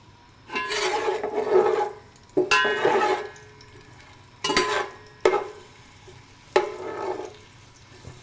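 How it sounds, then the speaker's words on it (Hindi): Chopped onions and a bay leaf frying in hot oil, heard as several separate bursts of sizzling and stirring, each swelling up and then fading back to a quiet crackle. "अब इसमें मैं प्याज डालूँगी। सबसे पहले हम प्याज डालेंगे और तेज़ पत्ता ऑयल के अंदर।"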